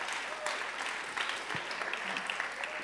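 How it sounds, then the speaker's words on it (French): Faint audience applause at a lecture by Etienne Klein at ESSEC business school, a soft, steady patter of clapping in a hall, quiet and distant, with no speech over it. "on peut l'applaudir."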